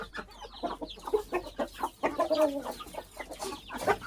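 Guinea fowl call close by in a rapid, harsh, rhythmic chatter of repeated cries that continues throughout.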